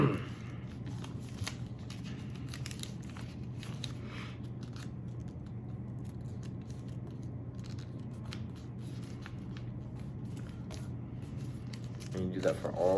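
Paper being creased and folded while making an origami crane, soft crinkles and rustles running steadily beneath a person's continuous talking, with a louder crackle near the end.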